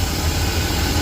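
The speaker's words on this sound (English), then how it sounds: "it already sounds way better. Idling smoother." A 1990s Dodge gas truck engine idles steadily and close, a low, even rumble holding constant throughout with no other sounds.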